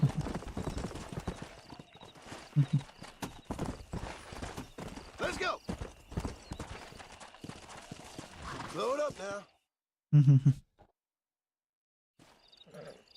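Horse hooves clip-clop and a horse neighs in the Red Dead Redemption video game, steady hoofbeats running under ongoing talk before cutting off, with a short loud burst after a pause.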